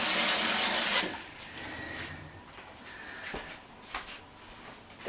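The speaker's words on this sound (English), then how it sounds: "Another litre of cold water" Cold water poured into a batch of pumpkin and raspberry wine, a brief splashing gush at the start, then quieter trickles and small clinks.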